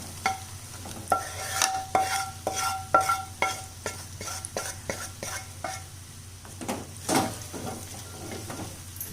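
Masala-stuffed brinjal is stirred and sautéed in oil in a pan, with a low background sizzle under repeated spoon scrapes and clanks against the pan, irregular and close, with no voices.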